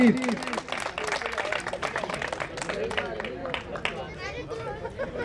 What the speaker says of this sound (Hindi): तालियां प्लीज।